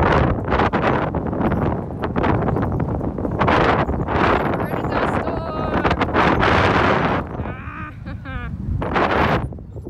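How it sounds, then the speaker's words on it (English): Strong gusts batter the microphone in a dusty desert at the Burning Man festival, roaring continuously with surging bursts, while voices talk briefly over the wind. "Super windy and dusty right now."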